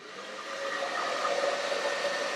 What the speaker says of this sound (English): turn on my trusty blow dryer